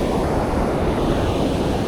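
Rough ocean surf breaks at a beach in Jacksonville, Florida, a loud, steady roar of waves mixed with wind buffeting the microphone, continuous and close, with no voices.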